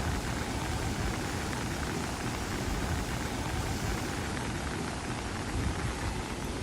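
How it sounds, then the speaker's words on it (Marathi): Heavy cloudburst rain over Nanded, Maharashtra, makes a dense, unbroken roar of hissing downpour that stays loud and even throughout, with no voices. "नांदेडमध्ये अजूनही पावसाचा कहर सुरूच आहे"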